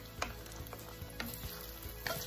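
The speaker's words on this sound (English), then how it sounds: "Stir it up." Canned corn being stirred into onions, peppers and butter in a hot pan, with a soft steady sizzle and a few scraping strokes of the spoon, fairly quiet and close.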